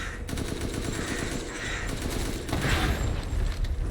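Crows cawing in the horror video game Resident Evil Village, harsh overlapping calls within a dense, loud game soundscape of rumbling and rapid gunfire-like bursts.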